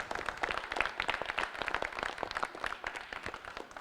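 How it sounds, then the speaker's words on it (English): Audience applause for children and their poets at a school poetry club reading, steady scattered clapping throughout, fairly close and moderately loud, with no talk over it. "can we give one more round of applause for all these kids and their very talented poets?"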